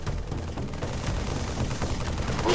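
Assault rifle fire in Halo 3 rattles in a dense, continuous burst of rapid shots, loud and close and mixed with booming battle noise throughout.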